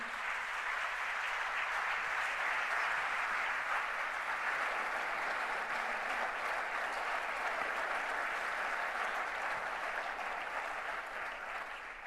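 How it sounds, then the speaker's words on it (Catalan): Sustained, dense applause from a large crowd at the 2018 Ràdio Associació awards ceremony in Catalonia, steady and enthusiastic throughout, tapering slightly at the end. "Fort aplaudiment."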